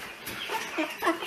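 A heavy broiler chicken in a cage gives soft, short clucks and low murmuring calls at close range. The calls come a few at a time over a hushed background.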